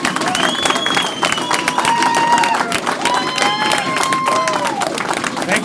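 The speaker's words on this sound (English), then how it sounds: "what a great crowd, Jeff." A large crowd at a 2016 election campaign kickoff in Saskatoon Willowgrove cheers, whistles and applauds loudly and continuously, with shouts rising through the noise.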